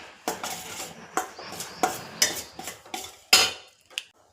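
Steel spoon clinking and scraping against a steel pan while roasted broken wheat is stirred, a series of sharp metallic taps and scrapes at an irregular pace, close and moderately loud.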